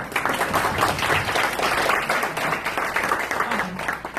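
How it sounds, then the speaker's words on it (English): A general meeting audience gives board members a round of applause, a continuous close clatter of many hands with some voices mixed in throughout. "Let's give us all a round of applause."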